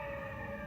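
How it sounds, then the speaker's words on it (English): A faint, steady emergency siren wails in the distance outdoors on a college campus, a continuous tone with no talking. "I don't know if you can hear the sirens."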